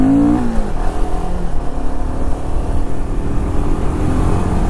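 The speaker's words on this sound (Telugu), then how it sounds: "మస్తు ఉంది సౌండ్, మంచి బేసీ సౌండ్ ఉంది దీనికి హిమాలయన్ 450కి." A Royal Enfield Himalayan 450 single-cylinder motorcycle engine revs loud and close with a deep, bassy note, rising sharply at first and then holding a rough, throbbing idle-like drone.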